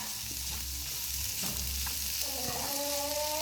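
Sliced snake gourd fries with chili masala and salt in a pan, giving a steady sizzle with a few utensil clinks and scrapes against the metal.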